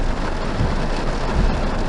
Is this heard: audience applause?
no